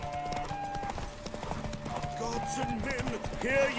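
In a Witcher 3 horse race, a horse gallops in rapid, rhythmic hoofbeats close up, under a man's excited speech and game music.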